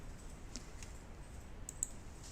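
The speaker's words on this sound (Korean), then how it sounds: "그리고 바깥쪽으로 클릭 클릭" Sparse, faint mouse clicks come from a computer user working in Photoshop: a few quiet, separate taps against a soft background hiss, with no talking.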